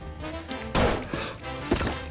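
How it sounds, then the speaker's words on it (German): A heavy anvil crashes down in the physics game Teardown, landing in one loud, sharp thud that cuts through a steady game soundtrack, followed by a few smaller knocks. "Der Amboss."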